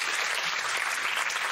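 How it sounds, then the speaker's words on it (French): Brief burst of audience applause for a comedian at a French comedy show, a dense, even wash of clapping from a crowd throughout, moderately loud and without a break. "On peut applaudir Jérémy."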